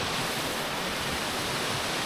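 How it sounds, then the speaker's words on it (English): A small roadside waterfall at Nant Melyn pours in a steady, dense rushing roar, close and loud, with no voices. "It's a little roadside waterfall that I found on my way to my first locations"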